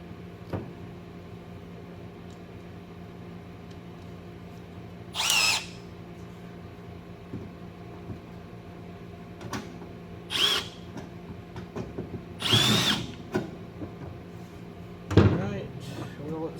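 A power drill with a 1/8 inch bit, working on a windshield washer reservoir, whirs in four short bursts spread across a quiet stretch, each lasting about half a second.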